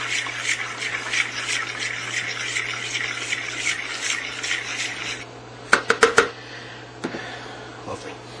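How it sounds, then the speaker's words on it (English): Meat loaf mushroom stuffing ingredients being mixed in a bowl, a steady rhythmic scraping and rubbing of a utensil against the bowl, followed by a few sharper clanks and knocks near the end, with a low hum underneath. "And mix that all together."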